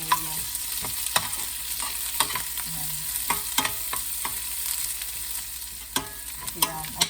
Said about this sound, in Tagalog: Nalihan ko yung sibuyas.